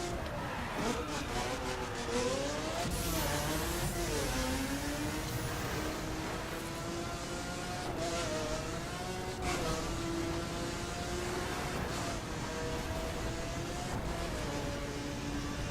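A race car engine roars in The Crew on the Summit Time Attack track, a loud continuous drone with rising and falling revs as the car accelerates and shifts through the whole stretch.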